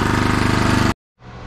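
The small gasoline engine on a Fortress STONE 95CMED cement mixer chugs loudly at close range with a fast, even pulsing beat, then cuts out abruptly into silence before a faint low rumble follows.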